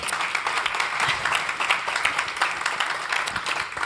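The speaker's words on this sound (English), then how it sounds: "That deserves an applause." Audience applause at a university impact awards ceremony, many hands clapping in a moderately loud, uneven patter heard from a slight distance for several seconds.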